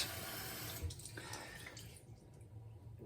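Running water from a tap, used to wet the head before a shave. It is a steady close splashing flow that eases slightly toward the end, with no talking.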